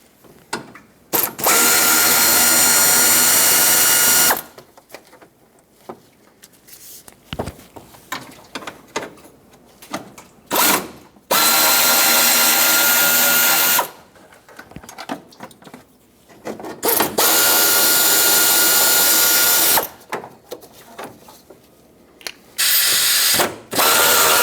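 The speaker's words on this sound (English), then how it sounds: "Now to unbolt the fan shroud, there are 4 bolts in total, 10mm headed bolts, 1 in each corner" A ratchet wrench loosening 10mm fan shroud bolts on a 1995-2004 Toyota Tacoma 2.4L, loud close clicking bursts of several seconds each, separated by pauses with fainter handling noise.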